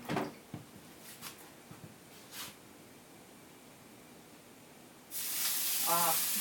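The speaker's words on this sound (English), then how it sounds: "Sizzles." Water dropped into a hot pan for cooking chapatis bursts into a loud, close hissing sizzle near the end, after a quieter stretch with a few light clinks.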